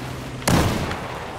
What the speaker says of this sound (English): there goes my one and only grenade